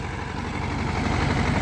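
A 51-year-old Zetor 2011 tractor engine runs close by with a continuous low, throbbing rumble and a steady vibration, with no talk.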